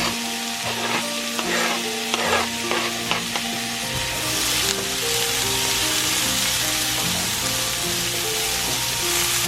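Chopped celery, minced garlic and diced onion sautéing in olive oil, a steady, fairly loud sizzle with clattering stirs in the first few seconds.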